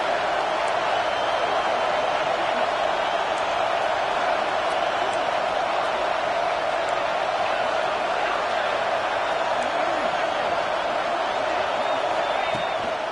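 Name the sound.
football stadium crowd getting loud for the defense on third down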